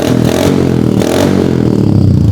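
A modified Yamaha FZS 150cc motorcycle idles and revs close by, a loud, rough, continuous engine note with a couple of throttle pulses and some mechanical clatter.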